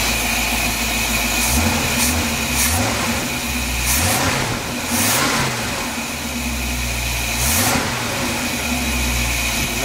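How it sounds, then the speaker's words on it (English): A 1955 Chevy truck engine fitted with a used Edelbrock carburetor idles loudly and steadily, with several quick throttle blips rising and falling in revs. "I got the new used Edelbrock on there"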